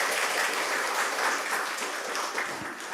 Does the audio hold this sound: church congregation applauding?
yes